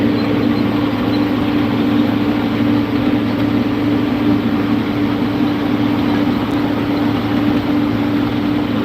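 A John Deere 4020 tractor engine runs steadily at close range, a loud continuous low rumble with a constant droning hum that never changes pace.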